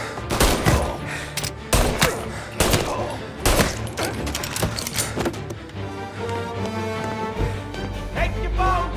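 Tommy gun bursts in the crime shooter Mafia, loud and close, with several sharp volleys in the first half, then sparser shots and lingering background noise.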